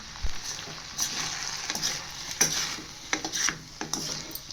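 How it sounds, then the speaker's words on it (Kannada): Beaten rice (avalakki) fried rice with pepper powder is stirred in a hot pan, a steady sizzle broken by repeated scraping strokes of a spoon across the pan, close and without talk. "ಈಗೆಲ್ಲನೂ ಚೆನ್ನಾಗಿ ಮಿಕ್ಸ್ ಮಾಡ್ಕೊಬೇಕು"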